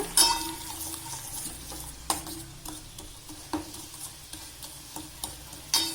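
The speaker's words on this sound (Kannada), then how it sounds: "ಒಲೆ ಮೇಲೆ ಇಟ್ಕೊಂಡು ಈ ಥರ ತಿರುಗಿಸ್ಕೊತಾ ಇರ್ರಿ" Melting jaggery is stirred in a pan on a stove, with scattered soft scrapes and clicks of the spoon against the pan at an irregular pace, close and fairly quiet over a faint background hiss, with no talking.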